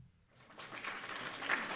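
A short burst of applause rises from near silence and swells into a steady wash of clapping, likely from a live trivia show audience.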